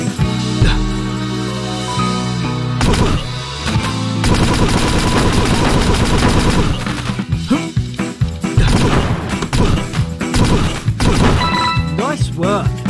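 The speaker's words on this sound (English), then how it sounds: "Shoot at, jump on, or dash through the enemies." Rapid gunfire from shooting enemies in the tower-defense game Toaster Defense, dense bursts of shots and impacts over loud game music, with a voice talking at times.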